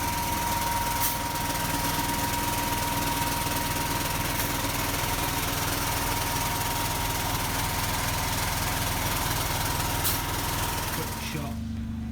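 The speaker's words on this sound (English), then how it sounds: "Got a compressor going in the back." An air compressor runs steadily behind spray foam insulation work inside a narrowboat. It makes a loud, continuous mechanical drone with a knocking, engine-like rumble that holds for about eleven seconds, then cuts off abruptly near the end.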